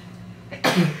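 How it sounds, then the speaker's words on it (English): A single sudden burst of breath lands near the end, loud and close, after a quiet stretch: a sneeze. "I gotta sneeze too, I think."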